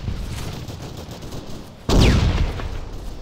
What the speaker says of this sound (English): I think they're shooting at us from the hill 340.